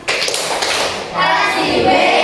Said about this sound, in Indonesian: berikan tepuk wow untuk kelompok 4